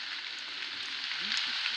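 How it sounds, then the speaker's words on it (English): Rain falling during a night investigation at Pretoria Pits, a dense steady hiss and patter like sizzling, close and constant for the whole stretch. "Oh, yeah, the rain."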